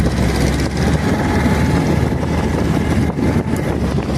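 A fast 40-horsepower outboard boat engine drones steadily at close range at sea, a loud continuous hum mixed with wind and water rush and no talking.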